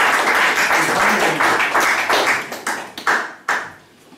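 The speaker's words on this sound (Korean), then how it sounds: "박수 한번 쳐보세요." Lecture attendees at a peace academy in Gapyeong clap together in a full burst that thins out into a few scattered final claps before stopping.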